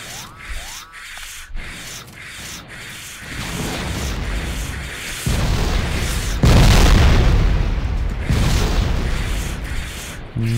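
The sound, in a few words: grenade explosions in Factorio video game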